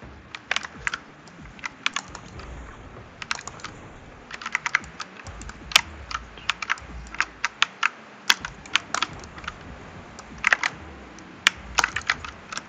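Close-up typing on a computer keyboard, a steady stream of crisp key clicks at an uneven pace with occasional louder taps.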